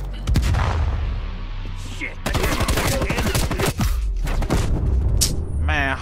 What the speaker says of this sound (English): He said grenade, the shit blew up.